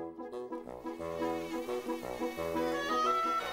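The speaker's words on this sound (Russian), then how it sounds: "Самки комаров тоже пищат, причем еще тоньше, пронзительнее и неприятнее, чем самцы." A thin, high-pitched whine of a female mosquito, close and continuous, wavering slightly in pitch.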